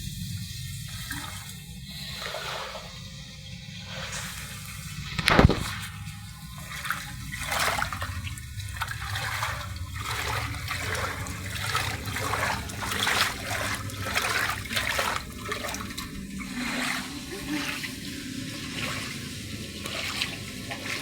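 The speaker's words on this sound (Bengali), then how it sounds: "ড্রেন পুরো পরিষ্কার, জল পড়ে যাচ্ছে" Rainwater on a rainy day pours and trickles down a clean, slightly raised drain. It makes a steady close wash of running water with scattered drips and one sharp splash early on, and no one talks.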